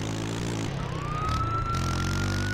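Police car siren wailing during a chase in GTA San Andreas, a loud, close electronic siren sweeping and holding over a rumbling engine, with no talk.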